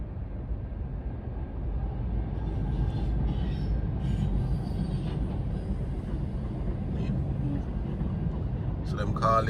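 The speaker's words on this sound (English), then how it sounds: "So them call this a what, a freight train?" A long freight train rumbles past nearby in Australia, a continuous low roar with clanking wheels throughout, faint talk mixed in.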